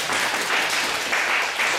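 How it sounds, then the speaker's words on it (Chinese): Steady, dense audience applause fills a short moment at a senior administrative council class session, a continuous wash of many hands clapping with no voices. "不是为我鼓掌，为你们自己鼓掌"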